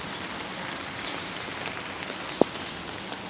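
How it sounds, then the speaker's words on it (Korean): Steady outdoor rain falls heavily around rocks and trees in a downpour, a continuous broadband hiss of drops on surfaces with one sharp tap near the end and no voices. "비가 오니까"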